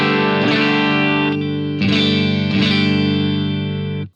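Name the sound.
electric guitar clean tone, Soldano SP77, greenback 4x12 cab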